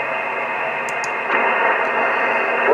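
Receiver hiss from an Icom IC-7300 or Flex 6300 HF ham radio with noise reduction switched off: steady broadband static with faint tonal whines, swelling slightly louder partway through, no voices.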